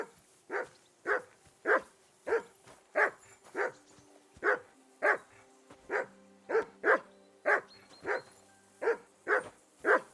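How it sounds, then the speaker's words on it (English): Steady, evenly spaced barks from a single dog, roughly eighteen in ten seconds, loud and close, heard in the video game Kingdom Come: Deliverance 2 with no talking over them. "I assume you can hear that damn dog of yours barking."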